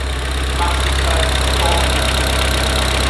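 Renault Megane with a new gearbox, clutch and flywheel idles steadily, a loud, even engine drone with a deep exhaust hum and no talk.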